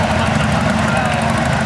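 A John Deere 435 diesel tractor with a two-cycle engine runs steadily at a tractor show, its rapid, even engine beat loud and close with no pauses.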